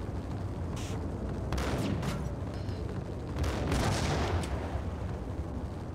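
Steady bursts of gunfire in the video game Max Payne, a dense run of shots and booms at moderate loudness with no talking over them.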